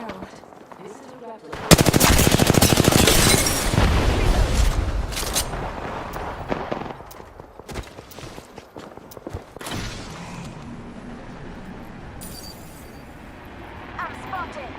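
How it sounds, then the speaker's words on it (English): Video game gunfire bursts loud and close from about two seconds in, a dense automatic rattle that thins into scattered shots, with a player talking over the action. "I'm spotted. Taking fire."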